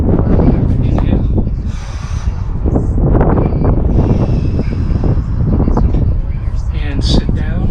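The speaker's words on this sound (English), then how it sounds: "It's a wee bit windy out here." Gusting outdoor wind buffets the microphone in loud rumbling bursts throughout, mixed with a voice giving yoga instructions.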